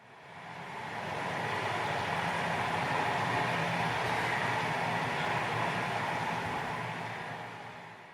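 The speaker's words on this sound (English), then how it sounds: "is the sound of that river." Steady, broadband rushing water, like a river flowing continuously, fairly loud and close throughout with no voices.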